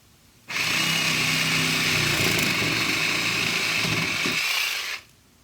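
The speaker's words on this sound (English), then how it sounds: "I'm going to go ahead and use a sawzall and cut this pipe on an angle" A reciprocating saw cuts through plastic pipe at an angle, a loud, steady buzzing whine running close and continuous for about four and a half seconds before stopping abruptly.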